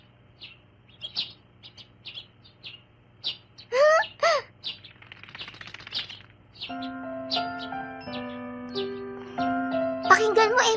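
Cartoon birds chirp and tweet on a morning scene in a rapid run of short, bright calls, joined by a fluttering burst and a gentle musical backing that enters partway through.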